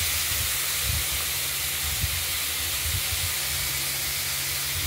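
Water poured into a hot pan of banana-flower chhenchki with lentil bori, setting off a loud, continuous close-up sizzle and steamy hiss that holds steady throughout with faint bubbling pops underneath.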